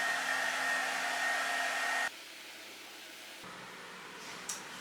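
A hair dryer blows steadily and loudly for about two seconds while heating slicked-back hair, then drops to a quieter, lower setting that hums on to the end, with no talking.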